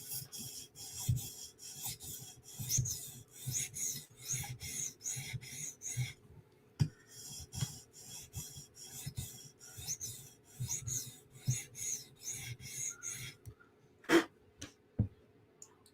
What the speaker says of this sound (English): 2 passes with the 400 grit stone to minimize the burr a little bit